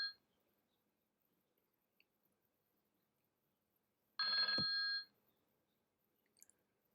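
A single short burst of a telephone ringing, with clear tonal harmonics, lasting under a second near the end of an otherwise quiet room with faint clicks.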